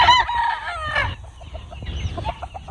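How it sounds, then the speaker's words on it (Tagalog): Chickens on a farm, with a rooster crowing loudly up close at the start, then a series of short clucks and soft calls from the flock in the background. "Ayan po yung mga manok niya."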